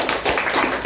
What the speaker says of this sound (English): Very nice, clap for him.